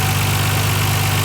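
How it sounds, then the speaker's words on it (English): A 1997 Nissan Skyline R33 GT-R V-spec engine idles in a steady, loud low rumble with an even, continuous hum, heard close up with no voices. "The engine is excellent, starts up no problem at all."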